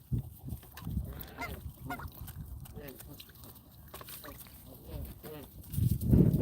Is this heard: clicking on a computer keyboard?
no